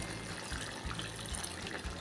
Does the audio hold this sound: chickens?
no